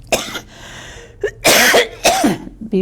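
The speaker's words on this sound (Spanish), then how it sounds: "Ya por esta tos que se me viene encima" Several loud, close coughs in quick succession, harsh and hacking, with short pauses between bursts.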